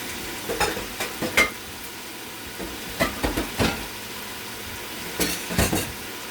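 Chicken pelau in a pot, Trinidad style, with stirring scrapes and clinks in a few short bursts over a soft steady simmer; no talking.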